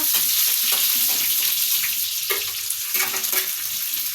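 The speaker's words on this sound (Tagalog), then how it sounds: "Magigisa na po tayo ng ating sibuyas" Sliced onion sautéing in a hot pan for Filipino tokwa sisig, a steady close sizzle with bright hissing throughout and a few soft stirring scrapes.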